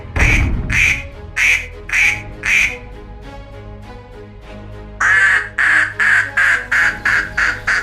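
A pet goose by a lake honks and quacks in two bursts of rapid, rhythmic calls, about five each, separated by a quieter stretch, close and loud.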